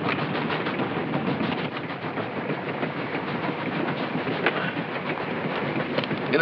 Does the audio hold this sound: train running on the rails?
yes